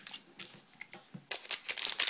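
Crisp crinkling and rustling of Pokémon booster pack foil wrappers pulled from a box close up, soft at first, then louder bursts of crackling toward the end.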